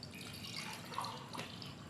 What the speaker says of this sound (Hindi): अब इसमें हमने डालना है 2 गिलास पानी